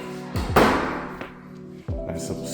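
A bedroom closet door in a house swings on its hinges with a drawn-out, slightly eerie creak, followed by a brief thud and a second shorter creak, close and clear.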